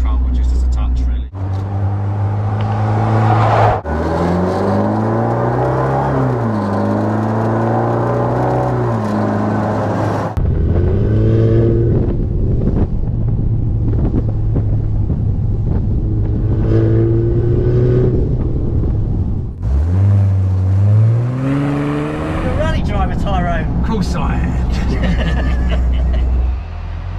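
A Bowler Defender 90 rally conversion fitted with a QuickSilver sport exhaust revs hard and close. The loud engine rises and falls through several revs, with a deep, throaty exhaust note and brief drops between pulls.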